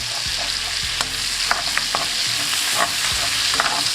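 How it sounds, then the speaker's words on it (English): Garlic, fresh thyme and knobs of butter sizzle loudly in a frying pan next to a steak, with a steady hiss and a few scraping stirs and taps from a utensil. "Mixing the thyme and the garlic along with the butter"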